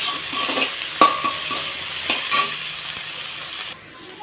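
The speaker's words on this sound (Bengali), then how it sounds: "দেখো পেঁয়াজটাকে হালকা একটু লাল করে ভেজে নেবো" Onions fry in a pan, with a loud, steady sizzle broken by spatula stirs and light metallic knocks, nearby and without talk.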